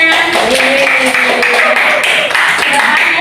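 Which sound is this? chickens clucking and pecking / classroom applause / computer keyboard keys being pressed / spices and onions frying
classroom applause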